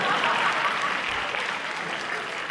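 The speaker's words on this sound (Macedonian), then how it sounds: "аплауз за генијалецов" Steady audience applause fills a stand-up comedy show, a dense continuous wash of clapping from a crowd that holds at an even, fairly loud level throughout without any talk.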